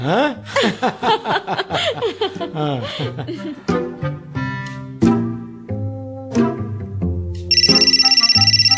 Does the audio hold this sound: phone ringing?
yes